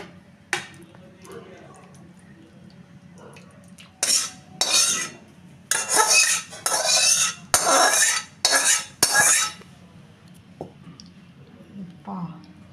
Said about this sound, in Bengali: অতীশ কড়া থেকে ঢেলে দিচ্ছে